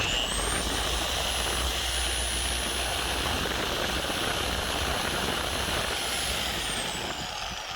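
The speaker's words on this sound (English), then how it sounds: "Harbor Freight polisher, and it works okay" A Harbor Freight polisher buffs fresh paint on a Honda Del Sol, a loud, steady whirring whine with a high pitched tone held constant close by throughout.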